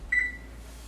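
An oven's control panel gives a single short electronic beep while the bake time for bread is set, a clear tone followed by a quiet hum.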